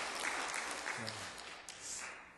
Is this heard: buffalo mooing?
no